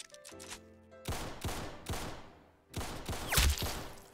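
Game gunfire in Arsenal: spaced single shots and short two- or three-round bursts, sharp and moderately loud, each followed by a brief echoing tail.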